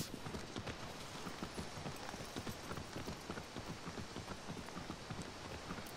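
Hooves of the horse Aggro clip-clopping in Shadow of the Colossus, a quick steady galloping rhythm of faint repeated thuds running throughout, low in level.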